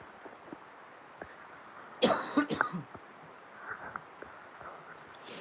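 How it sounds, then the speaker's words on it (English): A short burst of harsh coughing, two or three rough hacks close up, against a faint background hiss. "when I cough like that"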